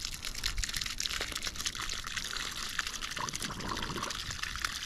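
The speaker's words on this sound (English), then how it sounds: "A little bit of water in there," Water trickles and pours from a broken 90-degree elbow fitting on an irrigation sprinkler pipe, a steady close splashing flow throughout.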